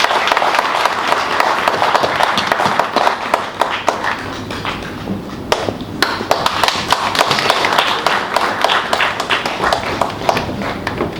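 Sustained crowd applause fills an award ceremony hall, dense steady clapping from many hands with scattered louder claps, continuing at even strength throughout with faint murmurs underneath.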